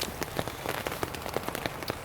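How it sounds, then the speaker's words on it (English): Heavy rain and strong wind in Scotland: rain spatters in quick irregular bursts against a nearby surface, over a constant rushing wash of noise. "it's raining pretty heavily and it's quite windy"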